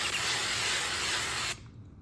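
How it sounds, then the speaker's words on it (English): Olive oil spray hisses steadily into a preheating air fryer for about a second and a half, then cuts off sharply, leaving only quiet room tone. "olive oil spray"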